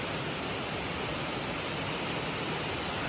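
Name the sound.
waterfall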